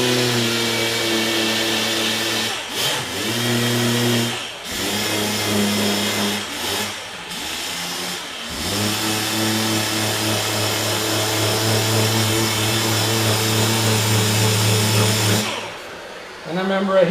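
A power sander works over a car fender under repair, its motor buzzing steadily and strongly close by, cutting out briefly a few times before resuming and finally stopping near the end.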